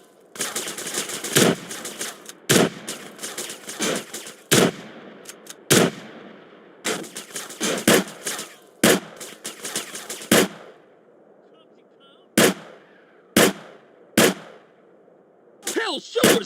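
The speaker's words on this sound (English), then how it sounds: "That was a sniper bullet!" Gunfire in the GTA San Andreas video game, sharp loud cracks coming singly and in quick bursts with short gaps between them, and a voice talking briefly near the end.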